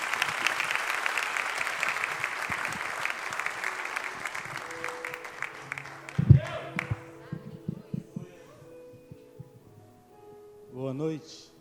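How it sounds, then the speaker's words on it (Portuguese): Congregation in an evangelical church service clapping loudly in a dense wash of applause that fades away after about six seconds, followed by a sharp thump and scattered quieter sounds and voices. "Você pode dar uma salva de palmas ao Senhor?"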